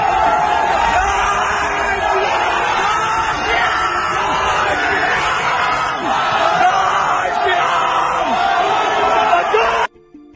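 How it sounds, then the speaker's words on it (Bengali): A large crowd of Hindus chanting Jai Shri Ram slogans at a street protest against the government in Bangladesh. The massed voices roar loudly and steadily, then cut off abruptly at the end. "সেখানে জয় শ্রীরাম স্লোগান তুলে সরকারের বিরুদ্ধে প্রতিবাদ জানাতে থাকেন হিন্দুরা"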